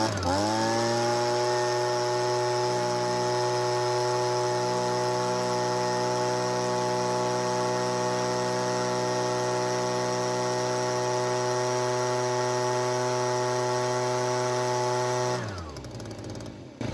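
Two-stroke leaf blower fitted with its original unrestricted tube, running flat out at a steady high buzzing whine for about fifteen seconds before abruptly cutting off and winding down.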